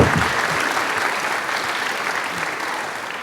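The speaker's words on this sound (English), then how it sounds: "I think that deserves an applause." Audience applause in a hall at an international conference at the Peace Palace in The Netherlands, a dense, steady wash of many hands clapping that holds loud throughout and eases only slightly toward the end.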